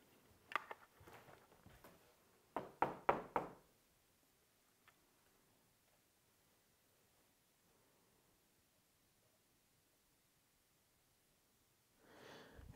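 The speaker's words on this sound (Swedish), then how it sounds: "Kanske knacka i väggen så här." Someone knocks on a wall in an old Swedish parsonage, Torgare prästgård, with a few quick raps followed by a tight burst of four or five knocks, then a long hush with only faint room noise.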